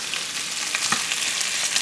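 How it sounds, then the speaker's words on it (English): Bacon rendering its fat in a pan, a close, steady bright sizzle with faint crackles and a few soft stirring scrapes, no talking. "Our bacon is rendering, and as you can see, there's lots of"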